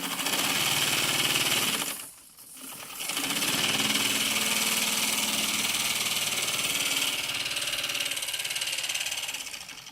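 A modified O gauge model locomotive runs with a continuous mechanical whirr and buzz, its motor drone dipping briefly around the two-second mark before resuming at steady strength.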